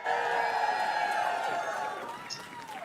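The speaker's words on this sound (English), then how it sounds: "Listen to the applause." Crowd at a Graceland event with Elvis fans greets the CEO taking the stage with thin, steady applause and scattered cheering, moderately loud and fading slightly toward the end.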